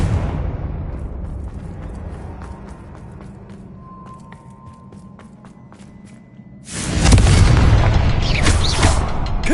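A Confringo spell blast in Hogwarts Legacy erupts as a sudden, loud, deep explosion after several seconds of quieter rumbling background, then lingers as a sustained roaring aftermath.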